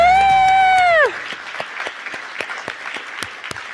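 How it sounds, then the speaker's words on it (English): A sustained loud held tone cuts off, then scattered, thin applause and individual claps break out from the crowd at a college nursing pinning ceremony, uneven and moderately close. "A round of applause for our graduates."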